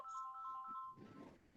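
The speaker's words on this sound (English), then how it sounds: "Somebody's ringing." A phone ringtone plays a repeating electronic melody, clear and fairly close, then stops as a soft rustle follows.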